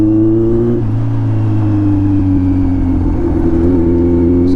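A superbike's exhaust drones loud and steady while being ridden on the road, with a deep engine hum that shifts slightly in pitch as the revs change, and no voices over it.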